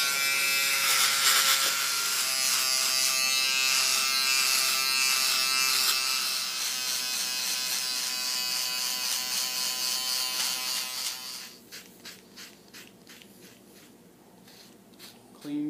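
An electric shaver buzzes loudly and steadily while shaving off a beard, then turns faint and broken into short bursts near the end, with no talk.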